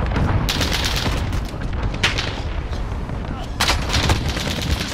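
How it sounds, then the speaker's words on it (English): An allied cruise missile strike in Call of Duty: Modern Warfare brings loud booming blasts that hit at intervals over a constant din of battlefield gunfire. "Allied cruise missile away."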